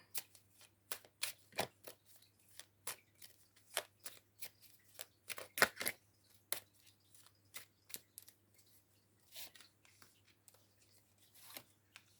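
Playing cards being shuffled and flicked, quick irregular crisp snaps and riffles close up in a quiet room with a faint hum.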